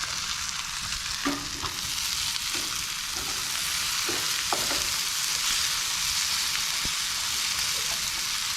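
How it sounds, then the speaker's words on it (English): Continuous crackling sizzle of green beans frying in a pan at a campsite, with occasional clinks and scrapes of stirring. "Get those green beans frying up a little bit more."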